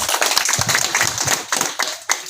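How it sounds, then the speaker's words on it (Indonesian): A small group of villagers claps hands at a community gathering, with close, uneven individual claps forming a brisk, choppy burst of applause. "kita beri dulu tepuk tangan plus kepada Pak Roberton"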